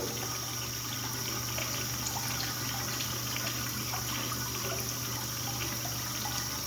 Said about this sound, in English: Today we got a urinal that keeps on flushing.